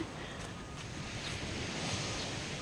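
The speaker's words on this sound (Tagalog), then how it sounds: "naririnig ko na ang ingay ng dagat" Rough sea surf breaking at Lobo, Batangas during a drizzly night, a steady broadband wash of rolling waves with wind noise on the microphone, continuous and fairly close, no voices.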